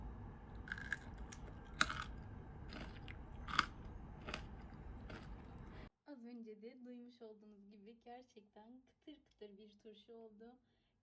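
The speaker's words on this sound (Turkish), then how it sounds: "Size de ufak bir şekilde kıtırtısını göstermek istiyorum." Close, crisp crunching bites into homemade pickled green beans (fasulye turşusu), several sharp crunches over about six seconds, followed by someone talking.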